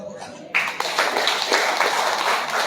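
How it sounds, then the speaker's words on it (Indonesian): A church congregation bursts into hand clapping during a Sunday worship service, after a quiet moment; the dense, close applause starts abruptly and carries on steadily without fading. "Tepuk tangan."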